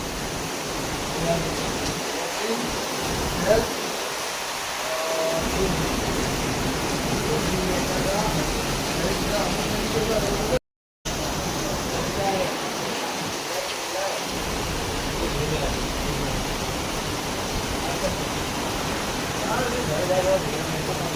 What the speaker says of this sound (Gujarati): મહેસાણામાં વરસાદ ધોધમાર ચાલુ છે